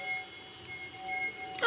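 A rain spell falls on tiny villagers in the god game Godus, a soft synthetic patter of raindrops over a steady tonal drone, building into a brighter splash at the very end.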